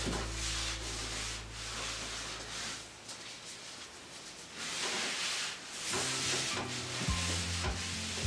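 A cloth wipes excess finish off an antique wooden buffet, making soft, repeated rubbing and swishing strokes at close range, fairly quiet and without speech.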